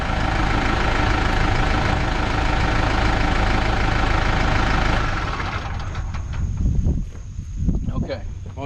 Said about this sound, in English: shut the tractor down.